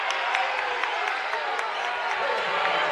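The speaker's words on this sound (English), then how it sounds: "the crowd doesn't like that, but that's going to be Bree's fourth foul" At a girls' high school basketball quarterfinal, the crowd reacts to a foul with a continuous murmur and scattered claps and shouts, heard under a commentator's voice.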